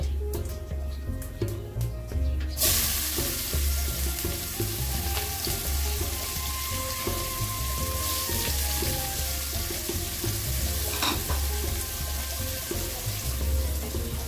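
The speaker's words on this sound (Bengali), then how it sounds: "আমি তেলটার মধ্যে এখন পেঁয়াজ কুচি দিয়ে দেবো।" Chopped onion hits hot oil already holding whole cumin seeds, bursting into a loud, steady sizzle that keeps a dense crackle going throughout, with no talking over it.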